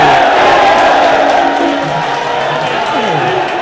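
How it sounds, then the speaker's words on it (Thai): A crowd at a Muay Thai fight roars and cheers loudly in a sustained wash of voices, with a commentator talking over it. "ทำแล้วมีเสียงเชียร์ครับ"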